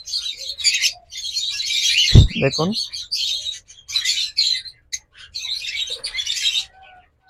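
Big breeding lovebirds or cockatiels chirp and tweet in dense, high, continuous chatter close by, while someone talks briefly over them.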